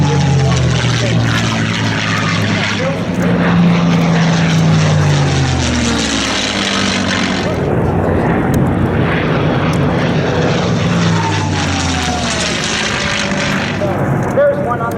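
An all-silver P-51 Mustang propeller warplane roars past at the Oshkosh airshow, its engine loud and sustained throughout, swelling and fading slightly, with a voice talking faintly underneath.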